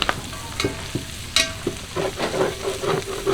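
Pieces of goat head for curry sizzle and fry in a pan on the stove, with a steady crackle and occasional stirring scrapes, close and moderately loud, with no talking.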